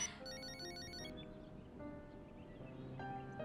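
A telephone gives a short electronic ringtone, a quick repeating melodic trill for about a second in a quiet room in a drama scene, then only faint room tone remains.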